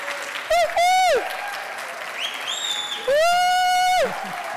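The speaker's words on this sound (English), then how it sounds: "Give them a big shout and a round of applause." Steady audience clapping at a conference closing session, overlaid by loud close-up whoops and woo-hoo cheers in two bursts, with brief smaller shouts in between.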